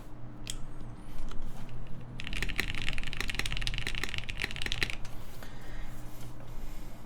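Typing on an Elvenmonster Martingale mechanical keyboard in a gaming setup, a flurry of close, crisp key clacks in a fast burst, with quieter scattered presses before and after over a low room hum.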